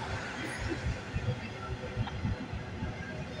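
Freight train rolling past on a mainline, a continuous rumbling rattle of railcars with dense low clatter and broadband noise held steady throughout the moment, close and fairly loud.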